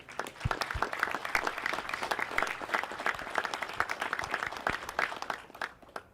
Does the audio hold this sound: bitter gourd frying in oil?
no